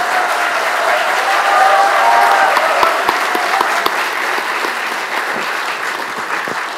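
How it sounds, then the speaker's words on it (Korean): Loud, sustained applause from a crowd at the 7th anniversary ceremony of the April 27 Panmunjom Declaration, welcoming former president Moon Jae-in to the stage, dense clapping with a faint voice beneath. "큰 박수로 맞아주시기 바랍니다."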